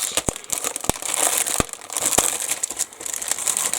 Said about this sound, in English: We got crinkly, noisy bags.